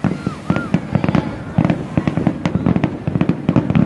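Fireworks bursting over the Jeddah Corniche during Saudi National Day celebrations, a rapid series of loud crackling pops and booms with a crowd voice faintly underneath.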